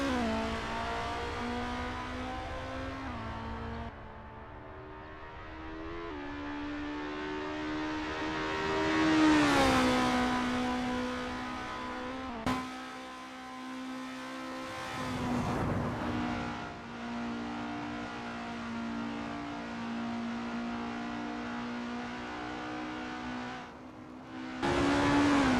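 Race car engines in a racing video game at the Zandvoort track, a sustained high-pitched engine whine that rises and falls through gear changes and revs, steady and continuous for the whole stretch with no voices.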